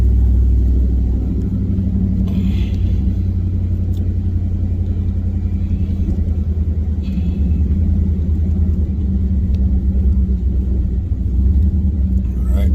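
A four-door Ram pickup truck running a quarter-mile drag strip, a loud continuous low engine rumble heard from close by, holding fairly steady throughout.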